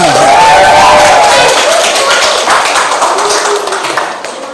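Classroom audience at a teacher-training session gives loud, dense applause, a continuous wash of many hands clapping that holds strong for about four seconds before starting to thin and fade.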